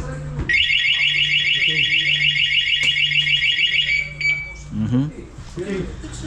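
Continuous warbling electronic siren from a Zontes G155 motorcycle alarm, loud and steady for about three and a half seconds before cutting off, after a new battery is fitted by a mechanic; a voice follows close by.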